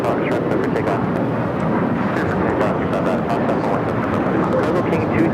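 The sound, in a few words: American Airlines 737-800 jet taking off at LAX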